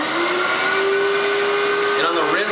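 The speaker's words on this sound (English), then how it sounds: "and on the rinse I do vacuum it really well." A Nitty Gritty record cleaning machine vacuums a vinyl record, giving a steady, loud motor drone with a high whine that holds throughout, shifting in pitch near the end.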